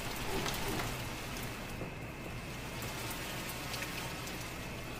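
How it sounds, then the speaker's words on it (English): Steady rain in The Mortuary Assistant 2 video game, a constant soft hiss of falling drops on surfaces, faint and unbroken throughout. "I really like the sound of the rain."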